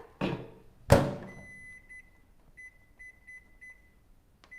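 A microwave oven door is shut with two sharp clunks, then a string of short electronic beeps follows as five minutes on high is keyed in, with one final click at the end.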